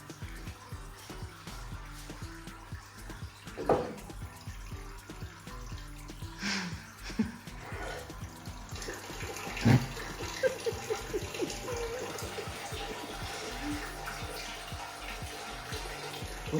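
Water trickles and splashes steadily into an aquarium, poured in with a waterfall method during bottom siphoning, a continuous wash of moderate loudness with occasional louder drips and splashes and no talk.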